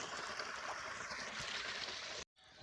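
Rainwater runs along a town street after heavy overnight rain, a quiet, steady rushing trickle that briefly cuts out near the end.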